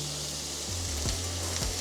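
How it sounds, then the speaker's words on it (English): Red pesto, a gluten-, wheat- and milk-free sun-dried tomato pesto, sizzles steadily in a frying pan, a continuous close hiss with a few soft stir knocks, no talking. "Can you hear that now? That now, so we've got the sizzle."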